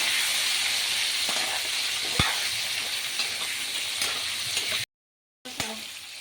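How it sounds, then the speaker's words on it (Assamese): Spices fry with salt and colour powder in a pan, a steady close sizzle with occasional clinks of a stirring utensil; the frying cuts out briefly near the end and then resumes. "বেছিকৈ মানে নাভাজোঁ আৰু এনেই অকণমান ফ্ৰাই কৰিম"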